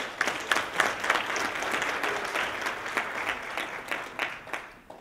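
Applause for Mayor Ras Baraka at the Garvey and Nkrumah Lecture Series at Essex County College, a soft, even spread of clapping from a modest audience lasting about five seconds and tapering off at the end.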